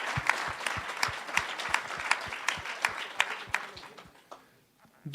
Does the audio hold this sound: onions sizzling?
no